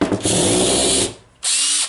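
A loud, close Makita BHP454 18V cordless hammer drill whirs in two bursts separated by a short pause, with a rough, rattling hammering texture, running in hammer mode after carbon brush replacement.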